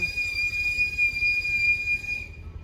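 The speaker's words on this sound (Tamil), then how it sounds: "என்ன விசில் அடிச்சுட்டே இருக்கிற" A steady high whistle holds one sustained pitch over a low rumbling motorbike ride on a hill road near Ooty, then stops abruptly near the end.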